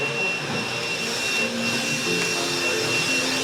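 A stick vacuum cleaner with weak suction runs continuously, a loud, steady motor whine and airy roar with no pauses or changes in pitch.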